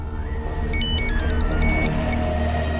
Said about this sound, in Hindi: Sir, phone.